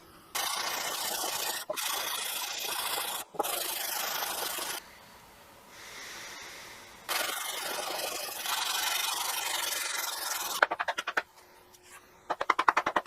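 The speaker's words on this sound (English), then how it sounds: "So I think I'm done lapping the bottom." A Millers Falls jack plane sole is lapped on 60 grit sandpaper, making loud, gritty scraping strokes in long sustained passes separated by brief pauses, ending with a few rattling knocks.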